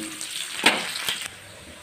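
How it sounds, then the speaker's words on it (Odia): Sliced onions fry in oil with cumin, dried red chili and bay leaf in a home kitchen, a soft continuous sizzle broken by two brief louder crackles or stirs. "ଆଉ କିଛି କାଟିକି ରଖିଥିବା ପିଆଜ, ପିଆଜ ଗୋଲ୍ଡେନ୍ ବ୍ରାଉନ୍ କଲର୍ ହେବା ପର୍ଯ୍ୟନ୍ତ ମୁଁ ଭାଜିବି"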